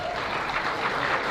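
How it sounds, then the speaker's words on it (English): A crowd at a book launch claps continuously, a dense even patter of hands with no break and no speech on top. "keep clapping"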